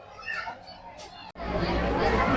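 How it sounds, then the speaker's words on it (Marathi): Devotees chatter as a dense crowd at the entrance to the Mahurgad Renuka Mata temple on a busy Tuesday, babble steady and close, swelling louder after a brief break. "मंदिरात जाण्यासाठी प्रवेश द्वारा असलेली ही किंवा भक्तांची जी गर्दी आहे ती आपल्याला या ठिकाणी दिसते"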